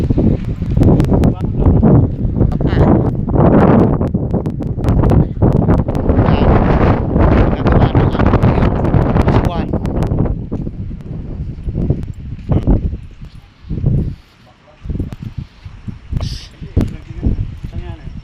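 Strong wind after Super Typhoon Uwan buffets the microphone in heavy gusts with rustling debris. Footsteps and people talking come through beneath it, and the gusts ease off toward the end.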